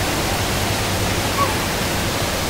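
Amboli waterfall roars with a steady, dense rush of falling water. It is loud and close, with an unbroken hiss that drowns out everything else.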